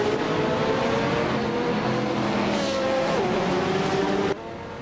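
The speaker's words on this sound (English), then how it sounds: "Eliasx 98 is leading the race with a 2001 Chevrolet Camaro M." Race cars in a video game, led by a 2001 Chevrolet Camaro, roar with a loud, continuous engine note. Pitch shifts and tire squeal come through before the sound drops abruptly near the end.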